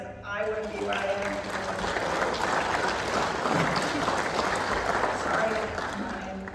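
Crowd in a university auditorium at a speaker event breaks into sustained, loud applause, dense clapping that holds steady for several seconds with a voice briefly heard at the start.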